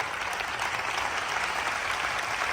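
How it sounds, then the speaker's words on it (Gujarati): Devotees at a religious festival celebration clap their hands together in sustained, dense applause, loud and continuous throughout, with no distinct speech over it. "આટલી તાળી પૂરી ન થાય ભક્તો."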